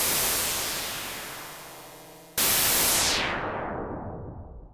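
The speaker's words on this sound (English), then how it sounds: "And another effect we need for transitions are these noise sweeps." White noise sweeps from a Yamaha Reface CS synthesizer: a hissing wash that slowly falls in pitch, cuts off abruptly, then a second sweep bursts in and filters down toward darkness. Loud and alone, with no talking.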